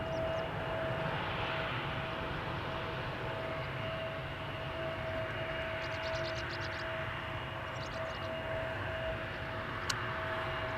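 A T-tail jet rolls along the runway at Schiphol's Polderbaan, giving a steady moderate engine drone with a faint tonal whine over it, heard from a distance and unbroken by speech.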